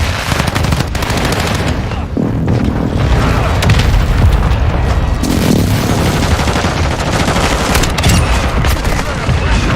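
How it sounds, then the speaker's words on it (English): Airstrike and mortar explosions with rapid automatic gunfire in Call of Duty Warzone, a loud, dense, unbroken roar of booms and rattling shots throughout. "Friendly airstrike in the AO. Friendly Tossing a mortar strike dummy on the way."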